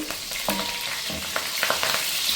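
Fenugreek seeds and curry leaves sizzle in hot oil, giving a dense, close frying hiss with scattered crackles and pops throughout, and no voices.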